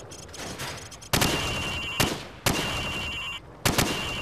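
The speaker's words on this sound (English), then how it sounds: "Now, shoot at the targets while firing from the hip." Rifle shots ring out at a firing range in Call of Duty 4: Modern Warfare, four loud, sharp cracks spaced about a second apart, each leaving a short ringing tail over steady background hum.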